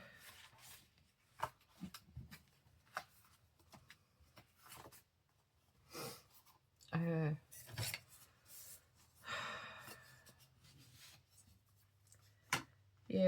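Scissors cutting out paper ephemera pieces at a craft desk: quiet, close snips and paper rustles in irregular bursts, with brief crinkling and handling sounds between cuts and a voice heard at times.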